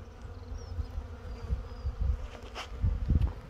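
A dense, agitated queenless honeybee colony buzzes continuously, a low droning hum that swells and dips, with occasional louder bursts near the end.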